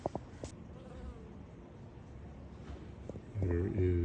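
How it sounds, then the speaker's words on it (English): Bees buzz faintly around an active beehive in a hole in a tree trunk on a cold day, a low hum that swells louder near the end. "There is an active beehive in this hole."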